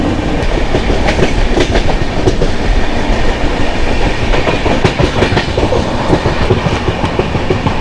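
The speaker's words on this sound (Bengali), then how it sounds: "হাওড়া ছেড়ে ট্রেন তার নিজস্ব স্পিড ধরে নিয়েছে" The Howrah–Indore Shipra Express runs at speed, a loud, constant roar of the moving train filled with rhythmic clickety-clack of wheels on the rails, heard from inside with no voices.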